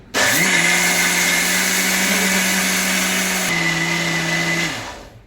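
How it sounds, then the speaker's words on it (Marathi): A kitchen mixer grinder whirs loudly and steadily while grinding dosa batter, holding one high-pitched motor whine with a slight pitch drop partway through, then winding down as it is switched off. "आता हे बघा, मिक्सर मी बंद केलं आहे"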